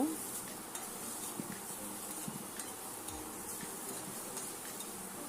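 Fried Gobindobhog rice is stirred into an onion and ginger masala in a pan, giving a steady close sizzle with soft scraping of the spoon throughout and no talking.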